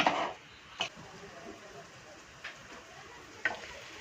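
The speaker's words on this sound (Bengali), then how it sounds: "আমাদের রান্না চলছে এখন" Home cooking in a pan gives a faint, steady sizzle with a few brief scraping stirs, heard quietly and alone without talk.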